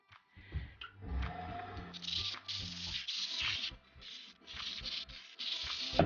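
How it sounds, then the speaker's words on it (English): Repeated scratchy rubbing strokes of 120-grit sandpaper against a black oak and resin bowl, steady and close, in a loose back-and-forth rhythm with brief pauses. "I'm gonna start sanding with 120 and go up from there."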